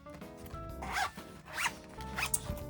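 Zipper on a zip-around six-ring photocard binder pulled in three quick, close rasping strokes, each a short burst with brief pauses between, alone with no talk.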